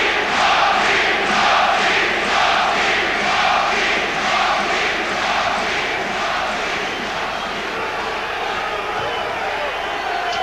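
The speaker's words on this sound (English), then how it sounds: "the roar of the crowd already started" A boxing-match crowd roars at a title fight between Chris Eubank and Graciano Rocchigiani, a loud, steady wash of massed voices and cheering with rhythmic swells, like chanting, filling the whole arena.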